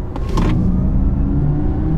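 An Audi e-Tron GT Quattro electric car pulls away hard out of a roundabout, giving a loud, close, steady rolling drone with a brief burst of road and wind noise at the start.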